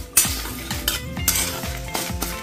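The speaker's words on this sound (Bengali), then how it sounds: "মশলাটা আমার ফ্রাই হয়ে গেছে" Cardamom and cinnamon with other whole spices dry-roast in a dry wok. A spatula scrapes and stirs in a quick, repeated rhythm, close up, over a faint tonal background.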